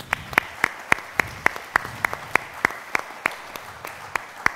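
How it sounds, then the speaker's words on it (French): Steady, even audience applause for conference panelists, around a dozen crisp claps at a regular pace, moderately loud against a faint background hum. "On peut applaudir pour nos panélistes."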